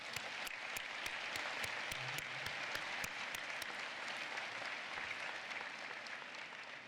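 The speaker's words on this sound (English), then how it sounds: "So let's give them another round of applause." A large crowd at a university commencement gives a long, even round of applause, dense and continuous, with a few sharper claps standing out near the front.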